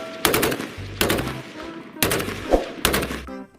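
Four loud, rapid bursts of electronic gunfire ring out from a toy AK-47, each a clipped rattling volley lasting under a second with short pauses between.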